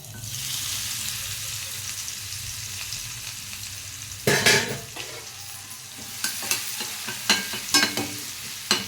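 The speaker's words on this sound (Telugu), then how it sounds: "ఇలాగా వేగిపోవాలి ఇట్లా వేగుతున్నటప్పుడు" A pounded paste of garlic, salt, turmeric and chili powder frying in oil in a pan, a loud continuous sizzle with sharp scraping and clattering stirring strokes in the second half.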